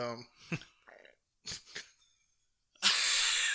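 A brief rasping throat noise sounds up close, followed by scattered short vocal sounds and a burst of breathy noise at the end.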